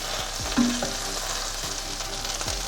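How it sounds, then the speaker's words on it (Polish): Butter melting in a hot frying pan, giving a steady, close crackling sizzle with a few light scrapes or stirs, and no talking. "na taką rozgrzaną patelnię dodaję masło. Czekamy chwilę, aż się rozpuści."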